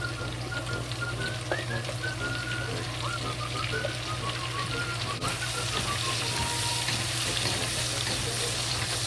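Bacon and cabbage fry together in a pan with a steady, dense sizzle and crackle that runs the whole time, with a low hum underneath and a few light pops and scrapes.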